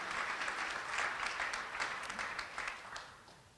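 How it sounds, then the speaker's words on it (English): A crowd at a US Figure Skating 2020 event applauds steadily throughout, a dense wash of many hands clapping at moderate distance, with no one speaking. "If everybody would give a big round of applause to the Honorable Mayor Nancy Vaughn."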